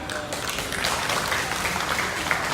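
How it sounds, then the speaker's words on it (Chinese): An audience claps for a singer at an outdoor karaoke stage show celebrating a Buddhist association's anniversary, a dense, steady round of applause filling the whole stretch with no break. "来个全场热情掌声听下可以吗"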